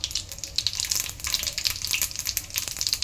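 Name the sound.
cumin seeds sizzling in hot oil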